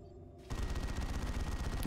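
A Dreadnought's assault cannon firing in the video game Dawn of War 2, a dense rapid burst of gunfire that starts abruptly after a short quiet moment and continues loud and unbroken.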